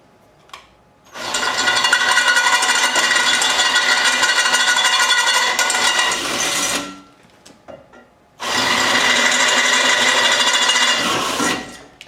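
A power drill boring holes through a thin metal front fender for a Suzuki GS550 cafe racer build, two long, steady, loud whining runs separated by a short pause, with clicks and handling noises between them.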